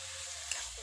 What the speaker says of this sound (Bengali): এই মাংসটা দিয়ে দিলাম মশলার মধ্যে